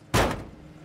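A car door slams shut once during a nighttime police traffic stop: a single loud, close thud that fades quickly into quiet background.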